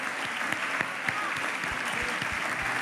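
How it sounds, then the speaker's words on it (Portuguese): A church congregation applauding at a Portuguese-language service, a steady wash of many hands clapping with some individual claps standing out and faint voices underneath. "Vamos dar um aplauso e um bem-vindo à palavra do Senhor."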